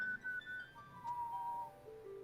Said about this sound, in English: Why are we whistling?